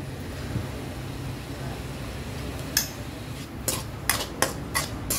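Grated coconut stirred in coconut oil in a pan, with a faint steady sizzle and a series of sharp metallic scrapes and clinks of the spoon against the pan in the second half.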